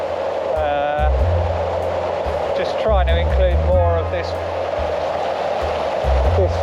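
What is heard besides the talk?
Jagala waterfall, flowing water in winter, Estonia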